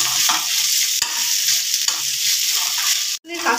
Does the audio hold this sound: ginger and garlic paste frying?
yes